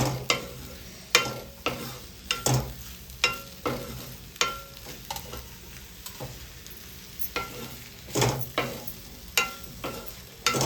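Vegetables frying in a pan while a spatula stirs them in regular, repeated scraping strokes, each stroke a sharp clatter over a constant sizzle, close and fairly loud.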